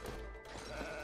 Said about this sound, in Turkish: Sonra koyun.